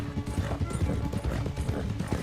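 Horse hooves clip-clop in Red Dead Redemption 2, a steady rapid rhythm of hoof beats with faint tack and gear rattles, close and continuous, with no talking.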